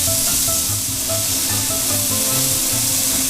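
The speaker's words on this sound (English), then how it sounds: "leave it alone for a minute so we can get a nice sear on that one side of that" Venison or beef searing in hot oil in a pan for stroganoff, a loud, steady sizzle and hiss that fills the whole stretch with faint crackles throughout, close up with no voices.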